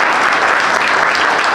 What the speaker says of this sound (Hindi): वेद जी पूनिया के लिए जोरदार तालियां हो जाए